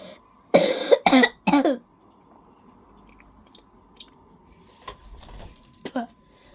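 Three harsh coughs in quick succession from a person nearby, loud and close, followed by a few fainter throat sounds and quiet rustling.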